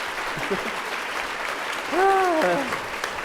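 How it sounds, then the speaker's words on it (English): Audience applauding a speaker at the end of a talk about bees and pollinators, a steady wash of clapping from a room full of people, with a brief voice rising over it midway. "How about another big round of applause for Sammy?"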